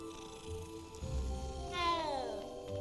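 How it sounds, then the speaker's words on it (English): A small cat meows in the Hogwarts Legacy video game, a rising, wavering cry that stands out clearly over the low game music and ambient hum. "Look at the little cat."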